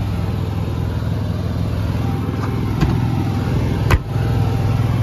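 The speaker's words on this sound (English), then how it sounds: "And you just start the Onan generator." An Onan generator on a 2015 Jayco Precept RV camper runs with a steady, close mechanical drone, with a few brief clicks and a sharp knock near the end.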